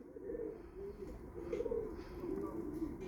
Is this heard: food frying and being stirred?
no